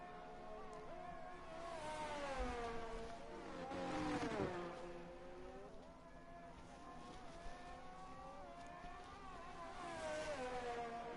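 Formula 1 race cars in the F1 22 video game at the Belgium round, engines whining and rising and falling in pitch as cars accelerate and pass, heard faintly and continuously.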